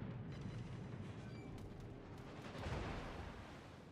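Naval artillery salvo in World of Warships, a dull low rumble of distant big-gun fire that swells near the end over a steady game background, with no talk.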